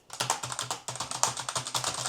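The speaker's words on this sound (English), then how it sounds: "Are you enjoying the typing experience?" Typing on a plastic membrane keyboard of a gaming PC, a quick even run of close, crisp key clicks and soft thuds, alone with no talk.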